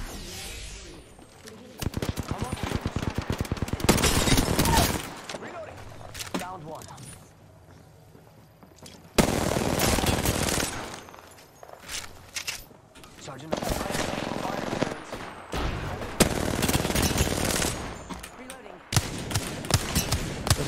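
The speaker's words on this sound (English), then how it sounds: "There's a guy just up there sniping" Sniper and automatic gunfire in the video game Apex Legends comes in several loud bursts separated by quieter stretches, with a person talking at times.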